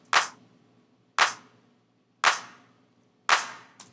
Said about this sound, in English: you're sending that sample to the small room reverb